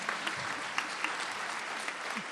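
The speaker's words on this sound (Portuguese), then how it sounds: "sou o marido da Né, a quem peço uma nova salva de palmas." Audience at a church testimony gathering breaking into steady applause, a short burst of many hands clapping evenly at moderate distance, with no talk over it.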